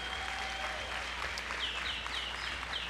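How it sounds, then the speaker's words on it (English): Faint, distant applause at a county fair grand champion market livestock show, with thin bird chirps and a low steady hum running through it. "big round of applause for them, please"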